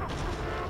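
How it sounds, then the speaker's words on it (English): A single rifle shot fired in the survival horror game Resident Evil 4, a broad burst with its tail filling the short moment, heard alone at moderate loudness. "One well-aimed rifle shot."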